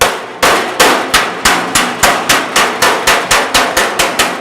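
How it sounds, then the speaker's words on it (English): Rapid, evenly spaced metallic taps of a hammer on thin-gauge sheet metal backed by a dolly ring out one after another, each a sharp clang with a short ringing decay, close and loud with no talking. "I'm going to come in with my hammer and my dolly."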